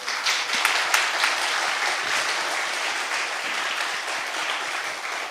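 A church congregation applauds during a joint Sunday worship service, with sustained, even clapping from many hands filling the room, loud and close, with no voices over it.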